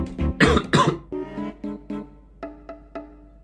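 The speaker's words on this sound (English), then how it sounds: "might be coughing a lot" A sick person coughs several times in quick, harsh bursts, followed by softer, spaced-out throaty coughs and throat-clearing sounds.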